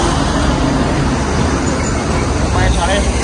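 A bus on an Indonesian roadway rumbles past amid steady, loud traffic noise, a continuous broadband roar that holds through the whole moment without pause.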